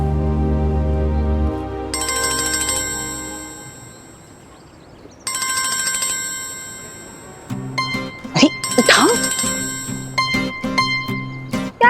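A phone ringtone plays a repeating electronic melody over and over, rising in bursts across several rings with brief pauses, with faint voices in the background.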